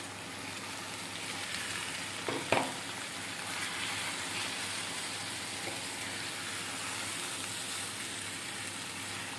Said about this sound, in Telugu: ఈ చేప ముక్కలు కూడా వేసుకుందాము.